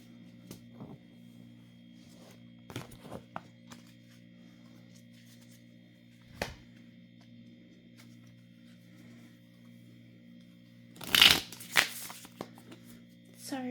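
Tarot cards are shuffled in several short bursts of crisp riffling, with a loud flurry near the end, over a quiet steady electrical hum.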